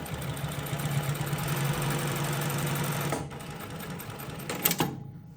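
A Jack S7 computerised post bed roller feed sewing machine stitches through six layers of leather with a steady, even mechanical hum, then pauses and gives a brief burst before stopping.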